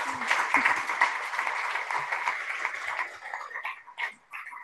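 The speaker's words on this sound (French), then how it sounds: "je vais vous demander d'applaudir nos invités." An audience applauds guests at a conference on shaping tomorrow, a dense burst of clapping from a seated crowd that holds steadily, then fades into scattered claps near the end, with speech mixed in.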